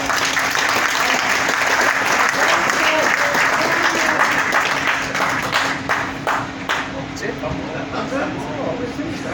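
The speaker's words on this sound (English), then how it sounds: "let's give them all a round of applause" Sustained audience clapping after a law firm presentation, loud and dense at first, then thinning into scattered individual claps toward the end, with a faint steady room hum beneath.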